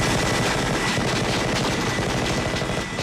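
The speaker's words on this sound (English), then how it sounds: "Jesse had that huge Gatling gun," Rapid, continuous Gatling gun fire from the 1987 film Predator, a loud dense roar of overlapping shots lasting a few seconds without pause.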